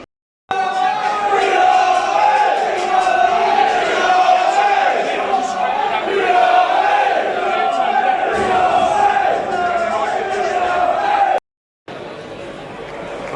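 Football crowd at a Plymouth Argyle home match against Gillingham, a loud massed chant rolling on steadily for several seconds before cutting off abruptly.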